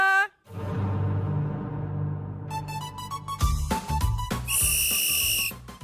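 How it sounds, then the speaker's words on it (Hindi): A loud, sustained whistle blown on a celebrity cooking competition show, a long steady tone with bright harmonics that shifts and wavers, backed by music. "अभी सीटी बज गई है मेरी"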